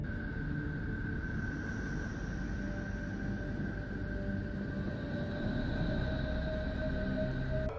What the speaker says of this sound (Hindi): नेपच्यून ग्रह से आने वाली आवाज को सुनकर ऐसा प्रतीत होता है मानो यह ग्रह कुछ सीक्रेट बताना चाह रहा हो